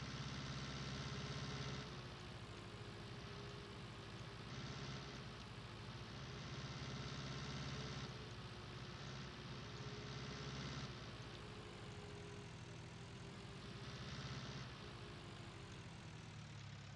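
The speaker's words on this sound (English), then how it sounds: "Shut that tractor off." A tractor engine idles in a farming video game set on an Iowa map, a steady low droning hum that holds for the whole stretch with slight swells in level; no talking.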